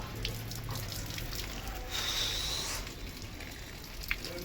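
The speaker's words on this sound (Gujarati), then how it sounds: "આપણે અત્યારે હાથ ધોઈએ" Running water from a tap splashing over hands, a continuous hiss with brief shifts and small drips, fairly close.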